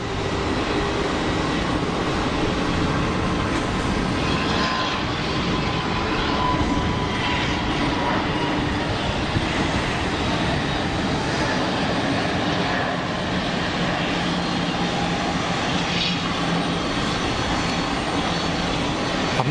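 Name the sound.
Pegasus A320neo jet on takeoff roll, runway 04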